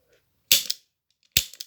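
A Webley Mk4 air pistol fires twice, each shot a sharp, close, loud crack with a short mechanical rattle after it, separated by a brief silence.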